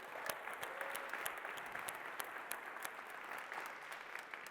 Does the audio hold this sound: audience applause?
yes